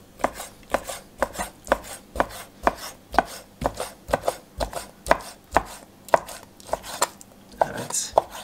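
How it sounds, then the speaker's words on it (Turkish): A knife chops chicken steadily on a cutting board, a long run of sharp, evenly spaced thuds close by. "bu tavukların hepsini bu şekilde doğrayıp tenceremin içine atıyorum"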